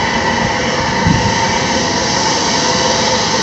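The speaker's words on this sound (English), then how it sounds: "So this is your motor running at rated speed." DC shunt motor running at its rated speed of about 1440 RPM, giving a steady, loud, continuous hum and whir with no change in pitch and no talk.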